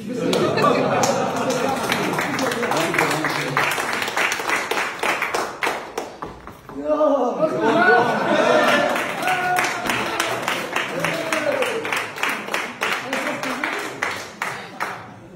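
A training group claps in a casual burst of applause, sharp hand claps scattered over several seconds, mixed with people talking and laughing close by.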